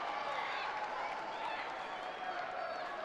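Football crowd at a women's Championship match between Birmingham City and Durham murmuring and stirring after a long-range shot just misses, a broad, steady roar of distant voices with scattered clapping.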